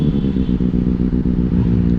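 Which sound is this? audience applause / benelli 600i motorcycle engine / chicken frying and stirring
benelli 600i motorcycle engine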